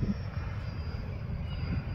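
Small FMS F-86 80mm electric ducted-fan RC jet flying with flaps in, a steady distant airy whoosh holding level for two seconds with no voices.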